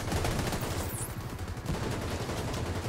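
Sustained rapid gunfire from The Division 2, dense overlapping automatic shots rolling continuously at steady loudness.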